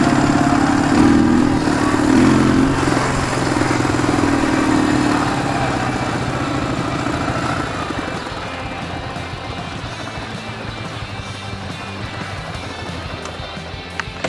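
A motorcycle engine runs steadily on a mountain outing in the Urals, a close, continuous drone that is loudest at first and eases slightly over time, with no voices.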